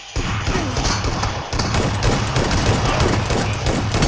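Shotgun gunfire fills a one-versus-one video game match, loud blasts and dense bursts of shots running almost continuously, with a brief gap partway through.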